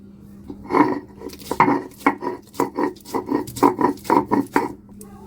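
Spices and ginger being ground on a stone slab for Bengali chicken malai curry, a rhythmic series of scraping, knocking strokes on stone, about a dozen repeated pushes at an uneven pace, close and clear without talk.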